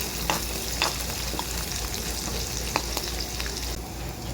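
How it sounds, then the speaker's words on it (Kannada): Chopped onions, cumin and green chilli sizzle steadily in a pan for vada pav, a constant close frying hiss with a few soft stirring clicks, no voices. "1-2 ನಿಮಿಷ ಫ್ರೈ ಮಾಡ್ಕೊಳ್ಳೋಣ."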